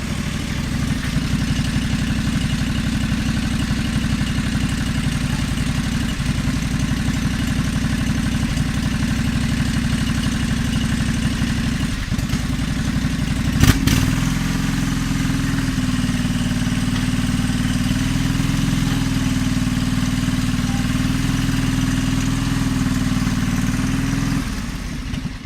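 A John Deere 425 lawn tractor engine runs steadily for the whole stretch, a loud, close, even mid-low hum with a brief knock partway through and a slight change in tone near the end.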